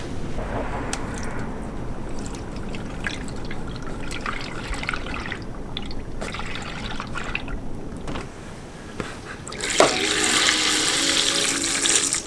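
Coolant drained and syringed from a Porsche Cayenne 3.0 TDI diesel engine, liquid trickling and splashing steadily with small drips, growing into a louder gushing pour near the end.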